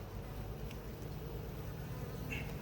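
Wasps buzzing around a beehive at an apiary, a steady close droning hum of several insects with no voices.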